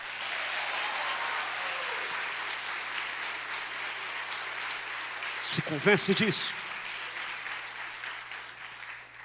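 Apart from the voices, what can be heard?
congregation applause in church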